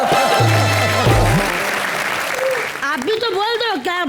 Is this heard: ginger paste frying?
no